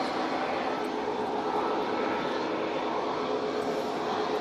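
Airliner engines roar at an airport, a steady broad rumbling whoosh of a plane at some distance, continuous and without any talk.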